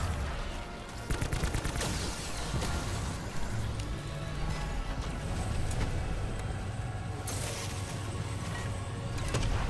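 Rapid gunfire from a Call of Duty zombies match, loud bursts of shots rattling almost continuously across the clip.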